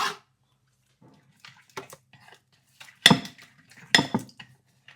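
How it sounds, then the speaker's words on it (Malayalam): Carrot and cucumber salad with fresh coriander is tossed in a bowl, giving scattered close clinks and scrapes of a utensil against the dish, in short irregular bursts with quiet gaps between. "എല്ലാം കൂടെ നന്നായിട്ട് മിക്സ് ചെയ്യുക."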